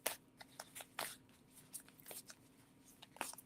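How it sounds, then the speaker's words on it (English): Cards are shuffled in quick, crisp riffles and flicks, close and quiet, with short pauses between bursts. "I'm just going to give the deck a good shuffle"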